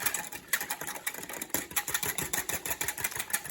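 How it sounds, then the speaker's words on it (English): Egg yolks, milk and vanilla whisked briskly in a bowl, a quiet rapid rhythmic clatter of the whisk against the sides, steady strokes with no talking. "We're just gonna whisk this all up."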